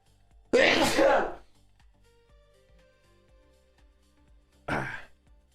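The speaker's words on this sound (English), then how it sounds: "I gotta sneeze." A single loud sneeze bursts out, followed by quiet room noise and then a shorter breathy exhale a few seconds later.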